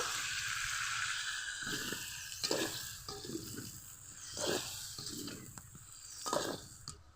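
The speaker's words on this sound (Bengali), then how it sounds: "মশলার সাথে লাউগুলো ভালো করে কষিয়ে দিতে হবে" Bottle gourd sautéing with spices in a pan, a soft continuous sizzle broken by repeated scraping stir strokes at an irregular pace, close and moderately loud, without speech.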